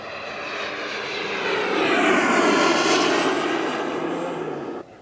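A Boomerang Ranger RC jet, powered by a Swiwin 120 turbine, passes overhead with a loud, steady turbine whine that swells toward the middle and then fades slightly before cutting off.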